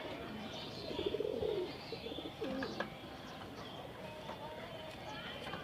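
Pigeons coo softly at a home pigeon house, with low murmuring calls heard under someone talking and steady background noise.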